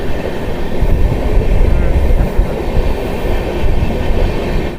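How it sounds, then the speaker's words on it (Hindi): The Lalkuan–Amritsar Express runs along the tracks with a loud, continuous rumble and rattle of wheels and carriages, heard close up from on board with no break. "देखो पूरी ट्रेन दिख रही है।"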